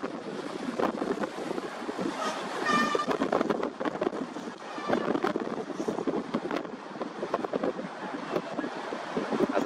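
Ocean swell of about 3-5 ft rolling in at roughly 9-second intervals on a cold, windy Blackpool shore, with steady broadband surf wash and gusting wind buffeting the microphone throughout, fairly loud and continuous.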